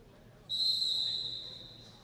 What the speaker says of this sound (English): that whistle starts the jam